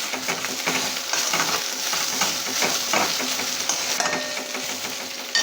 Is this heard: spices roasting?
yes